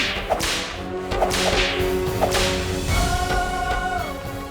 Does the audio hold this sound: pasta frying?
no